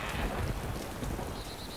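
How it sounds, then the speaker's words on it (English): A thunderstorm in the survival game DayZ on Taviana Island, with steady rain and a broad windy roar that hold throughout at moderate level, and no talk. "I like the fact there's a thunderstorm just muffling everything that I do."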